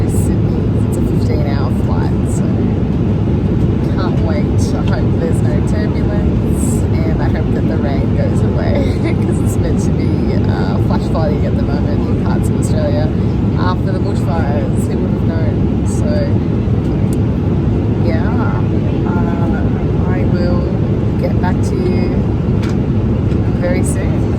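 Airplane cabin during a 15-hour long-haul flight to Sydney, a constant low roaring drone that runs unbroken throughout, with people talking over it.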